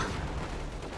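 In a Company of Heroes battle, a grenade blast hits a machine-gun position, giving one short, heavy, rumbling explosion with broadband noise throughout.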